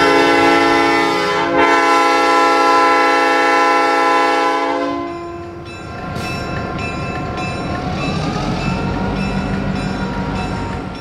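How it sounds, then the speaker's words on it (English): A loud diesel locomotive horn blasts steadily for about five seconds, then gives way to the rumble of a train pulling away from Hudson, Indiana. "the train departed Hudson"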